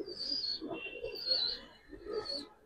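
Giribaz pigeons of Palla and colouring lines cooing and calling close by, a few throaty low coos in bursts mixed with higher chirpy notes, with no talking.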